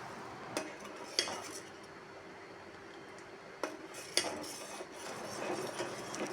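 A spoon scraping and knocking around a pot of thick pearl millet milk porridge, with sparse, quiet clinks at irregular intervals over a faint steady background.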